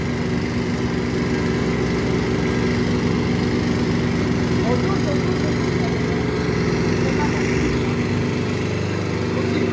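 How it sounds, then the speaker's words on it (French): A crane engine runs steadily and loudly close by throughout while it pushes a tiny house floor upright during a self-build, its low drone continuous with faint background activity. "Papa, d'un côté il pousse avec la grue."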